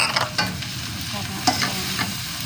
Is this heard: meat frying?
yes